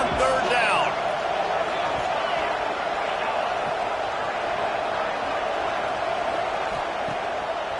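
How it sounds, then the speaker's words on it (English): A football stadium crowd roars steadily on third down, a broad sustained wash of cheering that runs from start to finish beneath a commentator's voice. "Crowd getting this defense whipped up on third down."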